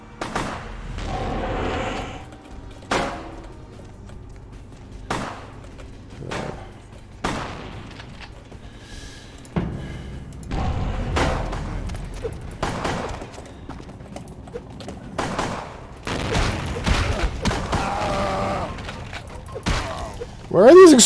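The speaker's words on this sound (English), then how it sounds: "Where are these explosions coming from?" Repeated explosions and gunfire-like booms in the Vampire: The Masquerade – Bloodlines video game, sharp bursts recurring every couple of seconds with rumbling between, loud and close.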